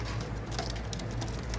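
Pigeons handled for sale, heard up close as a continuous busy rustle and patter of wings and feathers, with faint soft bird sounds.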